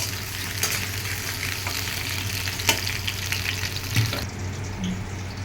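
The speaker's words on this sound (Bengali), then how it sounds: "এটা কিন্তু অবশ্যই মিডিয়াম ফ্লেমে পুরো পটলটাকে ভাজবো" Pointed gourd sizzles in a pan over a medium flame, a close, continuous frying crackle with a few small clinks and no voices.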